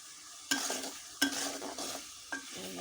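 A spatula scrapes and knocks against a pan as spice masala fries in oil for a desi rooster curry: three sharp strikes, each followed by a soft sizzle, close by with no talk.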